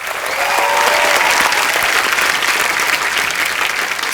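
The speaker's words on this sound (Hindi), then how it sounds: "इनके लिए भी जोरदार तालियां।" Loud, dense studio audience applause for a musician on The Kapil Sharma Show, a continuous roar of many clapping hands that stays full and even throughout, with faint music behind it.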